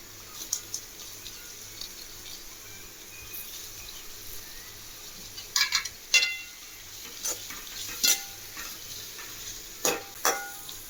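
Carrots, beans and cabbage sautéing in a pan, with a steady soft sizzle and repeated scraping clicks of a spatula stirring, close by.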